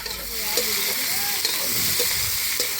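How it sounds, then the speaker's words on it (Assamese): Pork frying in its own rendered fat in a home kitchen, a steady close sizzle with a few clinks and stirring scrapes, no voices. "গাহৰি তেলেৰে তেল উলিয়াই আজি মাংস ভাজিবলগীয়া হৈছে"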